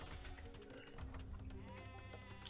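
Sheep bleat repeatedly on a video game sheep farm, a steady run of close, clear calls with almost no talking.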